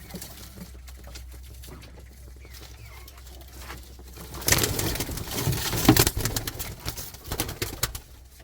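Tumbler pigeons, a male and a female, coo softly under a steady low background hum, then louder rustling and movement breaks in halfway through, with a brief coo near the end.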